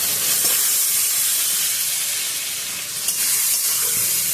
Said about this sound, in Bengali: এই তেলেই পটলটা ভাজা হয়ে যাবে